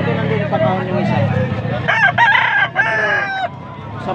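Lemon sweater gamefowl roosters crow loudly and close, several overlapping cock-a-doodle-doo calls with clucking, amid background voices at a market.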